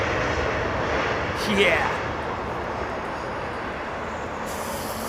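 An airliner lands and deploys its thrust reversers, a loud, sustained broadband jet roar that swells briefly and then holds, with wind noise and a voice talking briefly over it.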